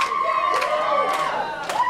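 A wrestling crowd at an independent show jeers and shouts at Ron Hunt, a loud sustained wall of voices with whoops and yells rising and falling throughout.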